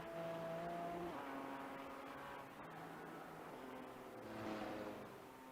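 A Porsche race car at speed on a road course during an endurance race, the engine note holding steady and then shifting pitch as it changes gear, heard faintly and somewhat distant with no talk.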